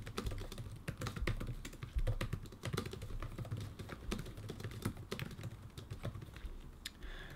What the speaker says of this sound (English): if I just do a quick typing example